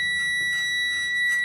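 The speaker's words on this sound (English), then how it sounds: "I pumped the brakes at 60 psi, the wig-wag dropped, the alarm sound, and the red light came on the dashboard" A truck's low air pressure warning buzzer sounds during a brake test, a loud steady electronic tone that holds for the whole moment, with no talking.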